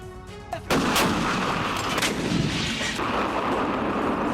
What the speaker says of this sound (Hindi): कैलिनिनग्राड में इन सैनिकों ने अपने जंगी इरादे दिखाते हुए तोपों से बारूदी बौछार की